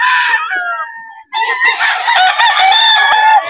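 Loud, close Cuban Grey roosters crow in two overlapping calls, one after another, with no talking.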